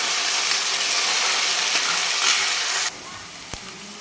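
Finely chopped onion sautéing in a pan until browned, a steady broadband sizzle and hiss that runs loud and continuous, then suddenly drops to a quieter simmer near the end, with one brief clink.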